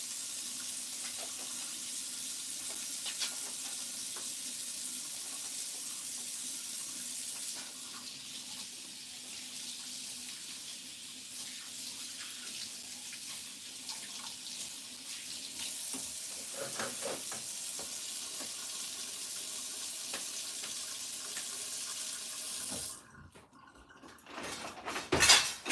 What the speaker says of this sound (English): I'm out of frame, but I'm washing my hands.